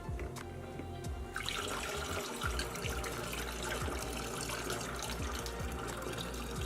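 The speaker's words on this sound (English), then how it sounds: "I'm adding another quart of water." Water pours steadily into a pitcher as a quart is added for homemade lemonade, a continuous splashing fill that grows slightly fuller after the first second, fairly quiet and close.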